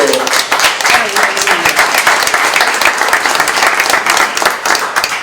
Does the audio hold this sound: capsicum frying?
no